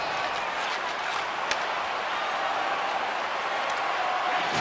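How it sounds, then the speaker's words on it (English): Hockey crowd at a GHL playoff game between the Canucks and Kings cheers and applauds after a big hit, a sustained wash of clapping and voices with a few sharp claps standing out. "the crowd's on their feet, saluting"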